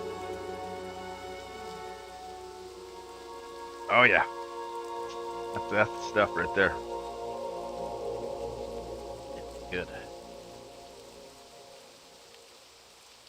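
Steady night rain patters on a surface, a soft continuous hiss under someone speaking casually, with a few sharper bursts of louder sound in the middle.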